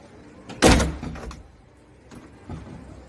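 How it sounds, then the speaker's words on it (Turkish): A building entrance door with a broken closer that has leaked all its oil swings shut and lands in one loud, heavy slam, followed by a faint rattle and softer knocks. "Normalde yavaşça kapanması gereken kapımız bir süre sonra bozulunca, yağını komple kaçırınca şu şekilde kapanmaya başlıyor."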